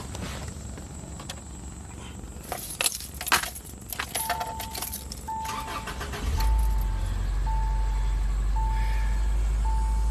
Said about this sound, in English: So I'm going to start the car and get the AC going